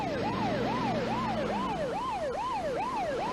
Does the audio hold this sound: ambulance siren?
yes